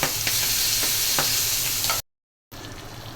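Fish frying in hot oil in a pan during rooftop cooking, a steady loud sizzle with scraping stirs as it is turned, broken by a brief silent gap before the sizzling resumes.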